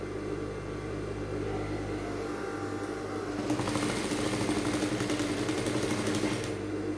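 A sewing machine hums at a steady low drone, then speeds into a louder, rapid needle rattle halfway through as it stitches down boning while making a lacing bar, with no talk.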